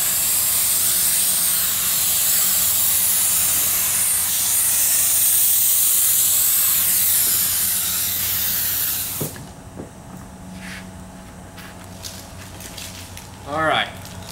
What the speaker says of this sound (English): one pass with the activator all the way up, and of course Liquid Concepts activator.